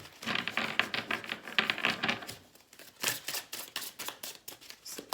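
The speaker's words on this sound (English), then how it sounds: "These cards are harder to shuffle because they're so shiny and pretty." Shiny, slippery playing cards are shuffled close up in quick crackling riffles, with two flurries separated by a brief pause.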